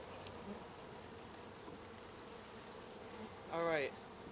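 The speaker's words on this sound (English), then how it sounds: "Sorry, bees." Honey bees drone at a low, steady level during an open beehive inspection, with a soft voice briefly heard near the end.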